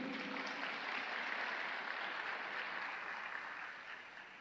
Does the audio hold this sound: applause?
yes